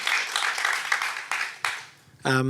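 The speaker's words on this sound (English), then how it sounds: "Everybody clap for that." Audience applause at a film Q&A session, brief scattered clapping that fades, then a voice cuts in at the end.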